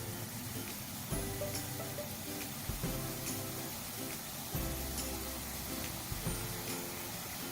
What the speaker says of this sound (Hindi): चिकन समोसा फ्राई करना स्टार्ट करते हैं।